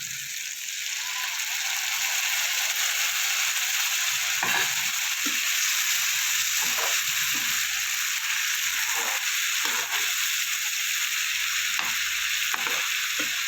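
Spice paste for a Bengali Amudi fish curry sizzles steadily in hot oil, a dense continuous fry with short scraping stir strokes recurring through the second half, no voices.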